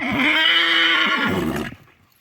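A stallion lets out a loud, close, trembling neigh lasting over a second and a half, then falls quiet.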